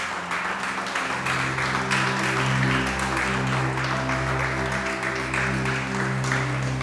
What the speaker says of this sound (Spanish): Dale ese aplauso al Espíritu Santo.